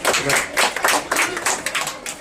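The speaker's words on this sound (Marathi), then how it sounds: "टाळ्या वाजवा." Children clap together at a primary school event, making a quick run of about eight sharp, close claps in an uneven rhythm with no talk over them.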